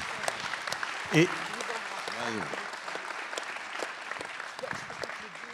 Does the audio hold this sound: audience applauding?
yes